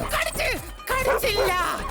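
A dog in a comedy film scene gives a couple of close, sharp yips and whimpers in quick succession, with a short gap between them.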